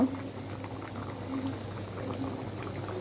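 Chana dal lentils boiling in a pot on a home stove, with a soft, steady bubbling and gentle simmering close by, quiet and continuous without talk.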